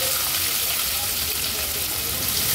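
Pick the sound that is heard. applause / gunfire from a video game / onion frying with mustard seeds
onion frying with mustard seeds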